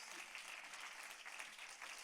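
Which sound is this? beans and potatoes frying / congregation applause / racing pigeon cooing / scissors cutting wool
congregation applause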